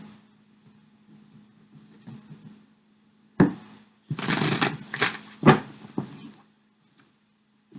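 Tarot cards shuffled by hand in a quiet room: after a knock near 3.4 seconds, a dense burst of riffling and slapping cards runs for about two seconds, then a few softer taps follow against a steady low hum.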